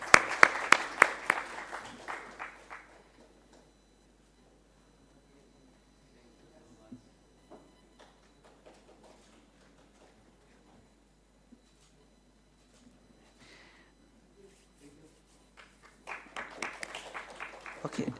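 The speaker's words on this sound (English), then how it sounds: "Give him a big applause." Audience applause at the ICITCOM 2024 award ceremony, a burst of clapping fading out in the first few seconds, then a long quiet stretch with faint sounds, before a second loud round of clapping rises near the end.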